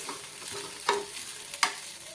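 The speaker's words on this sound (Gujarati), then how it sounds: "તો મુઠિયાને આપણે સારી રીતે મિક્સ કરી દીધા છે" A spoon stirs muthiya frying in a pan over a steady soft sizzle, with two sharp scraping clinks against the pan's surface standing out close by.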